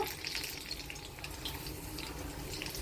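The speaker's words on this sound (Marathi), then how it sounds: "तेल गरम झालं आता या मिरचीला तेलामध्ये सोडून घ्यायचंय" Green chili fritters in chickpea batter sizzle steadily in hot oil, a constant crackling hiss with light popping throughout, close and uninterrupted.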